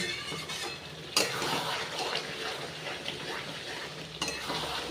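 Chicken and potatoes are stirred in a pot while frying in released oil, with a loud, busy sizzle and repeated scraping strokes, plus a couple of sharp spoon knocks against the pot.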